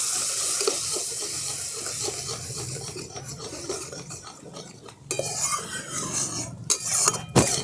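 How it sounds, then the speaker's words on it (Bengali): Tap water runs while a spot on a grinding stone is rinsed of poppy seed and cashew paste in a kitchen making fish egg curry, a steady close splashing and rubbing wash with sharper clatters near the end. "সেই জায়গাটা ধুয়ে আমি আর একটু জল দিয়ে দিচ্ছি"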